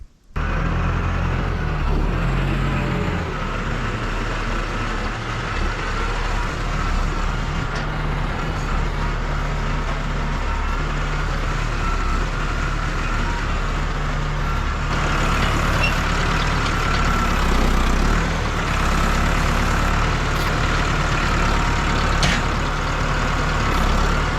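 A tractor engine runs loud and steady while straining to lift a massive stump, with a heavy continuous drone that grows rougher partway through and no voices.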